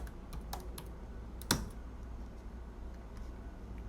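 Keystrokes on a computer keyboard while writing Rust code, a sparse run of light taps with one sharper, louder key press near the middle, fairly close and quiet.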